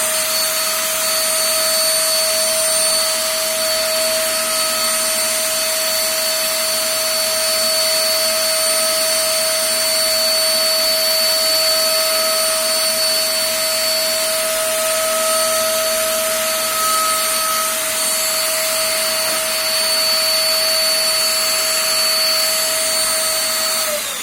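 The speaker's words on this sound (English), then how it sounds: "I'm starting the vacuum cleaner now." A household vacuum cleaner runs continuously while sucking dust off a floor at home, a loud steady motor whine with a constant high tone, unbroken for the whole stretch with no talk.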